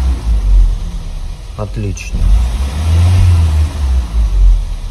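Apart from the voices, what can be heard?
Audi A6 C6 3.2 engine revving on flushing fluid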